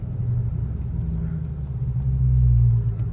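A Dodge Hellcat running with no air intake gives a deep, loud engine rumble heard from inside the car, with a low droning tone that rises and strengthens partway through, and no one talking.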